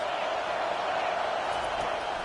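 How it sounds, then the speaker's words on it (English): Stadium crowd roar in a college football video game featuring Georgia Tech, a steady, dense wash of noise holding at the same level throughout without clear breaks. "This crowd trying to make life miserable for this offense."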